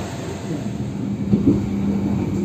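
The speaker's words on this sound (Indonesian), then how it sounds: "sebentar lagi kereta api Argo Wilis akan berangkat dari stasiun Jombang" The Argo Wilis executive train pulls out of Jombang station in Indonesia, giving a steady low rumble of rail wheels and carriage noise with a faint squeal midway. The sound is heard from inside the train and stays fairly even throughout.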